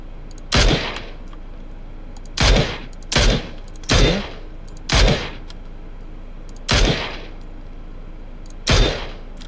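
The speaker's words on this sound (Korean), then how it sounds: "오른쪽 총소리" Gunfire in the PUBG battle royale game comes from the right side, seven sharp separate bursts spaced irregularly over several seconds, loud and distinct against a quiet background.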